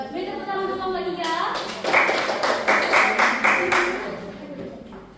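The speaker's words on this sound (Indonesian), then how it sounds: "Beri tepuk tangan untuk nomor 3." Students in a classroom clap for group number three, a fast patter of many hands that rises and keeps going for a few seconds after a teacher speaks.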